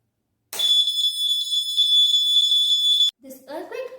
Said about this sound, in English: then the sound is produced from the buzzer